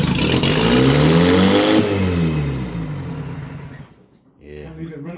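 The freshly rebuilt engine of a Bedford CA van revs hard, then the pitch sags as it winds down and dies to near silence, and a brief voice follows at the end.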